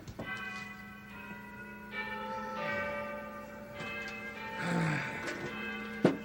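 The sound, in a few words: Oscar's trash can doorbell ringing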